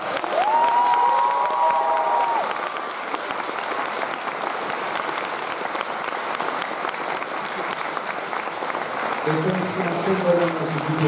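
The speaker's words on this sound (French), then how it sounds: "la chance, la joie d'accueillir sous un tonnerre d'applaudissements" A festival audience at the closing ceremony of the Étrange Festival 2021 gives loud, sustained applause mixed with some cheering, the clapping steady and dense from start to finish.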